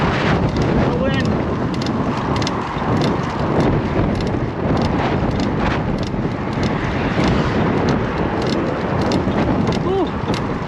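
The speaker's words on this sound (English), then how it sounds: "The wind." Strong wind roars across the microphone while climbing a hill, a loud constant rumbling buffet with gusty surges that covers the whole scene.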